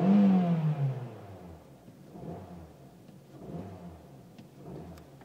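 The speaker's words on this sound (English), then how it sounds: "Let's hear the engine." A 2008 Vauxhall Astra Estate engine runs, opening with a brief rising whine over a low rumble that settles into a steady, moderately quiet drone with gentle swells and no voices.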